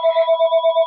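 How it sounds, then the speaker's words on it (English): A telephone rings nearby in a steady electronic warble, a rapid pulsing tone repeating evenly and loud on its own, with no voices over it. "And I apologize for the phone ringing."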